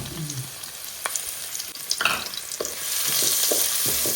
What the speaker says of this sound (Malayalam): ഇളക്കി കൊടുക്കട്ടെ.